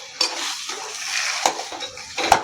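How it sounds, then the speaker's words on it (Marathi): A spoon stirs a spicy dish with coriander and red chilli powder in a pan, giving a few scraping strokes and two sharp metallic knocks against the pan, moderately loud and close, without talk. "कोथिंबीर आणि आपण छान हलवून घेऊया।"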